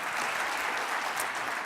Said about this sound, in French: on peut l'applaudir, voilà